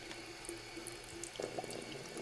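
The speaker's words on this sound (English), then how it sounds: "Run the water over the bristles." Water runs from a tap over the bristles of a water brush being prepared for use, a soft steady close trickle with a slight splashy change near the end.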